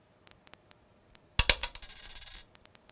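Two coins are tossed and land together on a hard surface, a bright metallic clatter that rings and settles for about a second, framed by soft faint clicks before and after.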